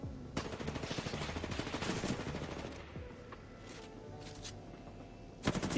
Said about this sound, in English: I want you to see if you can kill him in one clip with your R301 first.